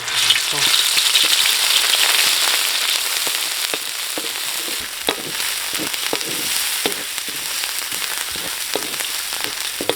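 Loud, steady sizzling and frying of curry ingredients in a hot pan for a Thai dish, a dense hiss with occasional pops and stirring scrapes throughout, no voices.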